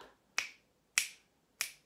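Three sharp, crisp hand claps land evenly on the beat of a children's rhythm exercise, close and isolated with short decays and silence between them, no voice present.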